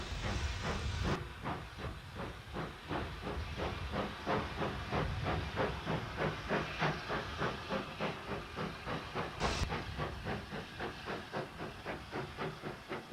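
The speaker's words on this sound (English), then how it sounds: "A train for Hawkhurst leaves Goudhurst, with number 31551 again in charge." Steam locomotive 31551 pulls a branch-line train out of Goudhurst toward Hawkhurst, a steady rhythmic chuffing with hissing steam, moderately loud and even throughout, with a brief whistle-like burst near the end.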